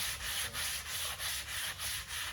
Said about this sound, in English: more than even just sanding the wood flat, I'm kind of removing the dirt